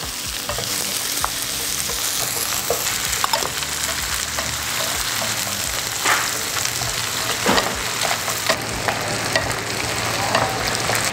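Crab frying in butter with crab mustard for caramelized butter crab, a steady close sizzle broken by repeated stirring scrapes and clatter, with no voices.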